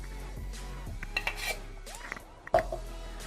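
Homemade achar gosht masala being mixed in a bowl with salt, fenugreek seeds and coarsely ground spices, giving scraping, clinking utensil sounds in irregular strokes with one louder knock near the end, close and moderately quiet.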